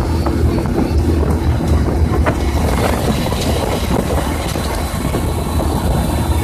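Steady low engine drone of a boat with rushing water and wind buffeting the microphone, continuous and fairly loud throughout, no talking.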